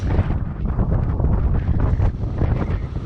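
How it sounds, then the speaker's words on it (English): Strong gusts of wind buffet the microphone in a continuous, rumbling roar with no talking, on a mountain ridge in Baxter State Park, Maine. "A little windy."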